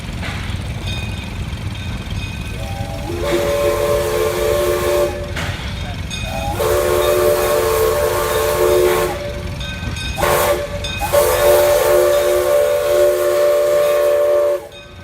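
Buckley Railroad 0-4-0T steam locomotive number 7 rolls past on a passenger run, its whistle blowing in several long, loud blasts separated by short gaps, over a steady rumble of the moving cars.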